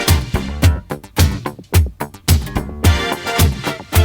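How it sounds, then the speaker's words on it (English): A pop track plays with bright synthesizer chords over a pulsing bass and steady beat, loud and full, no voices. "listen to the synth"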